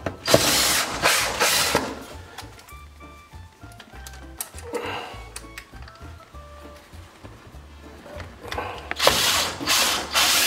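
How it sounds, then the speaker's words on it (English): Screws driven in by a power driver to secure an over-the-range microwave: loud buzzing bursts at the start and end, with quieter tool handling and scraping between them. "Gonna put a few screws in there to hold it in place."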